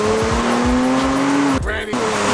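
A BMW 335i with a freshly installed intercooler accelerates hard, its engine note climbing steadily in pitch through the gear before a short break at a shift, then pulling again, loud and close from inside the car.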